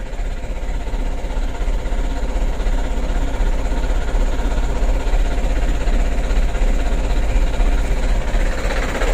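A motorcycle engine running steadily after a kick start, its oil caked with jelly-like sludge, a loud, close, even idle with a continuous low rumble and rapid fine pulsing throughout.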